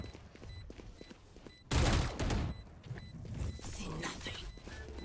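Gunfire in the Valorant video game, a short burst of shots around the middle of the clip over low in-game sounds, with people talking faintly.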